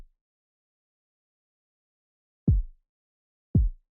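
A snare drum in a beat production, filtered down to its low end so it thumps like a heartbeat: two dull, isolated low hits about a second apart after a brief tail, with silence around them.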